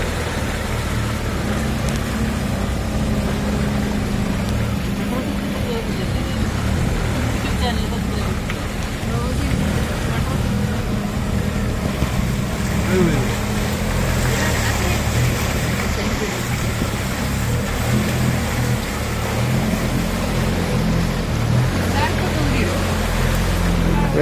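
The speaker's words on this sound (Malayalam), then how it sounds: "പൂവാറിലെ കണ്ടൽക്കാടിൽ കൂടിയുള്ള ഒരു ബോട്ട് യാത്രയാണ്" Tourist motorboat cruising through the mangrove forest at Poovar, Kanjiramkulam: a steady engine drone mixed with rushing water and wind noise, continuous and close for the whole ride.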